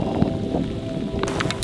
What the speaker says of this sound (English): Blimey, it's hailing. There's hailstones falling from the sky.